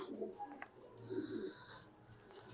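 Racing pigeons in a loft give soft, low cooing murmurs, a few gentle rolling calls at moderate distance over quiet room noise, with no talking.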